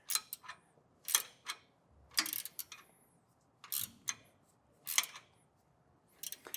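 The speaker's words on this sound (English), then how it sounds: "I'm going to snug it up the rest of the way with my ratcheting wrench" Ratcheting wrench tightening a bolt on a Firestone Ride-Rite air helper spring bracket: short bursts of quick metallic clicks, close and quiet, with pauses between strokes.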